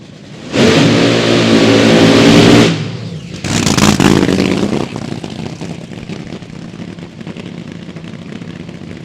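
A supercharged fuel altered drag car at a dragstrip blasts off in a violent, roaring launch, then the engine howls away with crackling pops and fades into the distance, loud and close at first.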